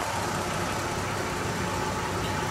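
A 1963 Chevrolet inline-six, the 3.2-liter 194 cubic-inch engine, idles steadily at around 640 rpm, a close, even mechanical hum with no voices over it.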